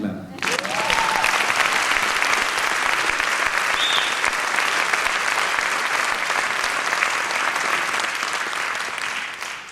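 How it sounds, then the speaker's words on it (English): Sustained applause from a gala night audience at an international competition in Cape Town, dense steady clapping filling the hall for nearly ten seconds, with a few faint whistles rising briefly near the start. "Now you can clap."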